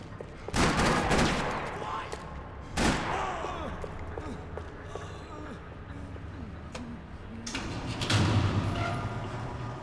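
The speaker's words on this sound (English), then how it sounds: "Another parking lot rattling with gunfire." Bursts of video game gunfire crack and rattle across a wide parking lot, with heavy volleys near the start, middle and end over a constant rumbling background.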